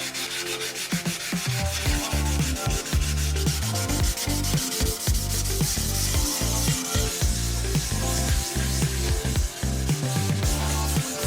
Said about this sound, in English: So I'll do the light sanding.